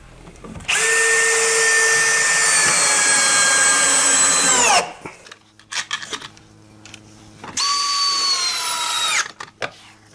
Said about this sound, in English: I prefer to use a regular cordless drill on the low power setting for driving these screws